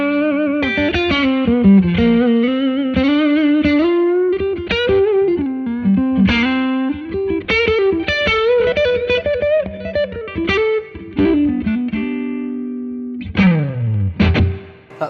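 An electric guitar played through a Blackstar amp head with the reverb turned up plays a loud, distorted, sustained melodic line with bends and chords, its notes ringing into a reverberant tail, ending in a sliding downward smear.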